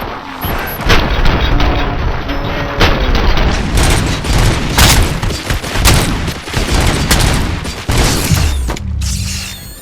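Heavy gunfire in the Robocop: Rogue City video game, loud rapid bursts and booming shots layered with mechanical clatter, firing almost continuously with a few brief pauses and a sudden cutoff near the end.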